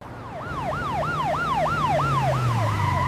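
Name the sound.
police car sirens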